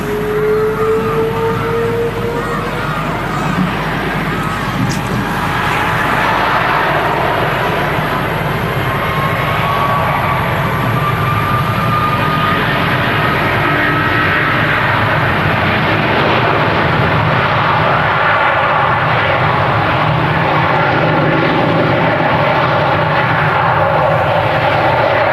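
A loud airliner takes off on departure from Manchester Airport, a steady broad engine roar with rising whine building and sustaining close by for the whole stretch, with no talk over it.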